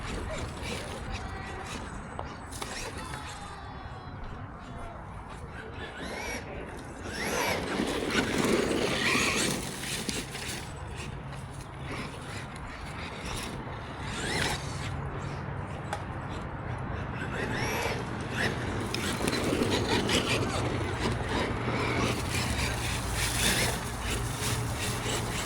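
A Traxxas Rustler VX3 RC car drives on an impromptu outdoor track, its motor whine and tyre noise running steadily for the whole stretch, growing louder as it passes close and fading as it moves off.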